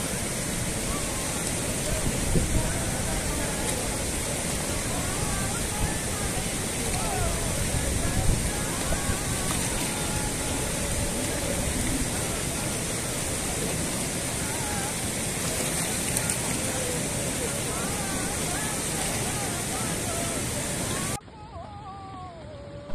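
Deep Myagdi river flowing, a constant loud rushing roar of water heard close by for most of the stretch before cutting abruptly quieter near the end.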